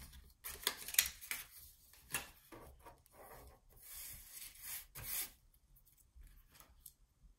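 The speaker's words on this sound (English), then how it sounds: "I'm just gonna punch a hole right there." A half-inch EK paper punch works through patterned paper, with a scattering of crisp clicks, crunches and paper rustles, close and fairly quiet.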